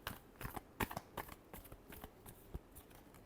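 Tarot cards being shuffled by hand, heard as a close, quiet run of crisp irregular clicks and riffling taps, with no talking.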